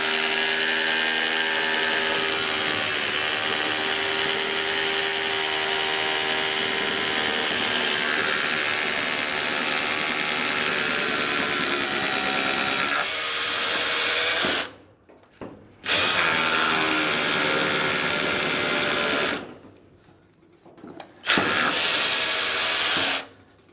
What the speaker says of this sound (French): Donc là je vais percer et je vais le fixer au sol. Avec un forêt de 8 qui est livré avec le perfo.